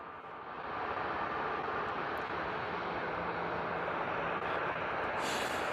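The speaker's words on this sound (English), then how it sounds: "get eyes on with our EasyJet A320 taxiing to our runway 27." An EasyJet Airbus A320 airliner taxiing toward runway 27 at Bristol Airport, its engines giving a steady, loud broadband roar that rises after the first half second and holds evenly, with a brief hiss near the end.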